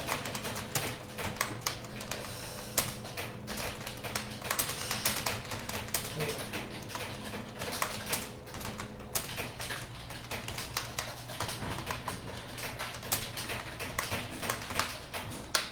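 Fingers tap out an address on a computer keyboard in Tally accounting software, a quick irregular stream of light clicks running steadily throughout, close and fairly quiet.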